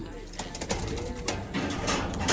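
Homing pigeons returning to their loft coo softly in short repeated bursts, close by under a steady wash of background noise and occasional voices.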